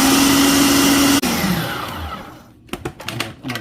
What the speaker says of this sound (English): give this a blend